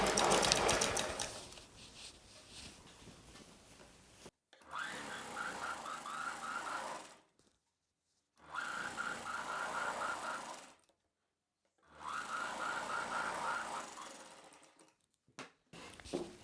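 A sewing machine stitches the lining of a silk saree blouse, running in three steady whirring bursts of a few seconds each, separated by short silent pauses, at close range.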